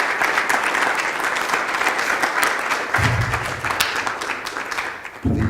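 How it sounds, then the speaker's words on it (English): An audience applauds after a presentation, steady dense clapping throughout, with a brief low rumble and a few louder claps near the end; no voices over it. "Please clap."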